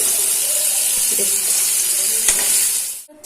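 Paneer fries gently in a pan for dahi paneer. A loud, steady hiss and sizzle runs throughout with a few soft utensil taps, then drops away sharply just before the end.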